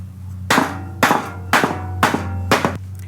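Five sharp, evenly spaced taps of a fastener cover being knocked into the channel of a PGT aluminum sliding glass door jamb, loud and close, about half a second apart, with nothing else audible.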